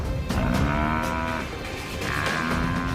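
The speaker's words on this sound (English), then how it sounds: "Buffalo is strong and can wheel around, slashing with his horns, lashing out with his hooves." An African buffalo fighting lions lets out loud, deep, drawn-out bellows, several in quick succession, close by and raw, amid scuffling commotion.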